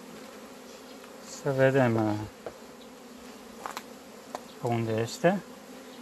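Honey bees buzz steadily around a beehive frame, a faint continuous hum beneath two short bursts of nearby talk.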